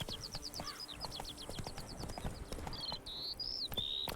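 Horse hooves clip-clop at a steady trot in The Witcher 3, a brisk, close rhythm of hard knocks with bird chirps over it and a few sustained whistling tones near the end.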